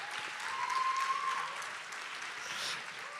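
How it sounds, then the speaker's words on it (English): Audience applause rings out at an Arangetram dance debut, a sustained wash of clapping at moderate volume that swells slightly and carries on throughout. "she deserves another huge round of applause just for that feat in itself"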